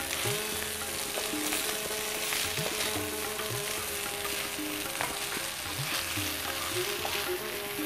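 Cashews fry in a pan for sor malai pulao, a loud, steady, close sizzle with occasional clinks of stirring.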